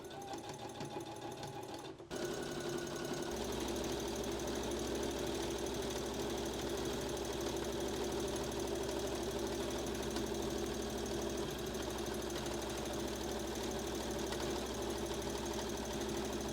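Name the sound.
sewing machine stitching a skirt side seam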